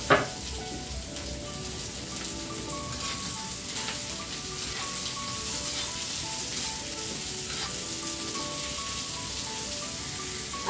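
Phodni spices sizzling in hot oil for a cauliflower curry, a loud and steady crackling hiss that starts with a sharp burst and runs unbroken throughout.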